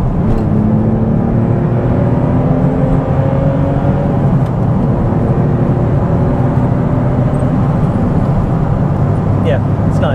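Steady car engine drone building in pitch as the driver drops to third gear at about 65 mph and accelerates, loud and continuous throughout with no talk.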